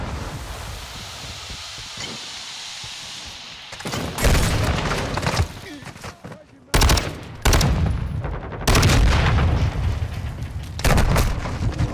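Gunfire in Modern Warfare 2, loud bursts of automatic fire and booming shots in several dense clusters separated by short lulls, with occasional voices.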